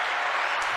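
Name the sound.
applause sound effect from a button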